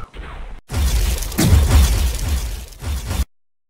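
A loud AK-47 rifle blast during a police encounter, a harsh burst with a long ragged tail following a brief muffled noise, then cutting off abruptly.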